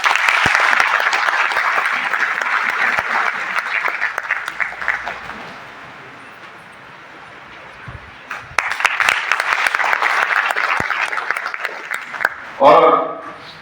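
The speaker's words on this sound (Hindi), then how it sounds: "जोरदार तालियां।" Loud applause from an audience at a motivational speaking event, a dense roar of clapping that dips midway and swells again, followed by a brief voice at the end.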